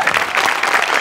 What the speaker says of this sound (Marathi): आर्ट डिपार्टमेंटसाठी एकदा जोरात टाळ्या वाजवूया.